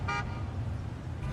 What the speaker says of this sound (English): the honk